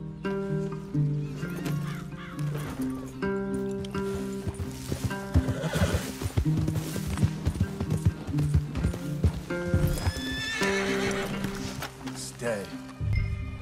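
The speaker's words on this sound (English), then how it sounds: "Leave the horses in the trees there." Red Dead Redemption 2 horses whinny and neigh repeatedly with clip-clopping hooves, mixed with dense game sound and voices talking throughout.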